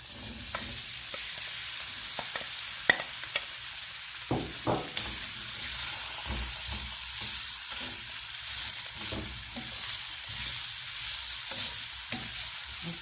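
Potatoes frying and browning in a pan for a cabbage and potato omelette, a steady broadband sizzle with occasional stirring and scraping bursts, close and continuous with no talking.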